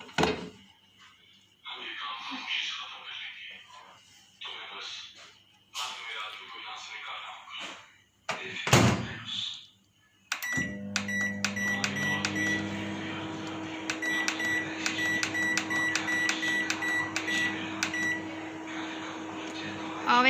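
A microwave oven holding a chocolate cake mixture runs with a steady low hum and fan whir after the door is handled, a few beeps sounding over the drone, with someone talking at the start.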